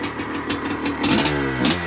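A Honda CR500 dirt bike engine fires up and settles into a loud, close idle, its rough two-stroke chatter pulsing with a couple of throttle blips.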